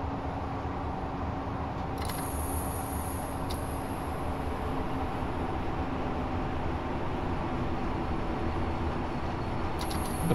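Diesel crane train rumbling along the rails in Train Simulator Classic, a steady low drone with a faint hiss and a few brief high squeals, continuous and without talk.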